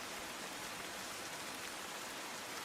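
Steady, dense torrential rainfall pouring down in Surat city, a continuous broadband hiss with no breaks and no voices.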